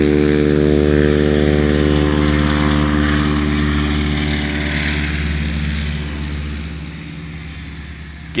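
A hefty STOL touring-class propeller aircraft takes off, its loud droning engine and propeller roar steady at first and then slowly fading as it pulls away, with no voices over it.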